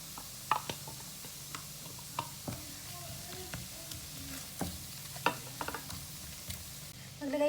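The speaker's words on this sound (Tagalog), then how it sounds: "Igisa lang po natin to hanggang mag-golden brown. Ihalo na po natin ang ating itlog na pula or salted egg." Garlic sautéing in a pan while salted egg is mixed in, a low sizzle under repeated sharp taps and scrapes of a spatula, with a louder burst of frying at the end.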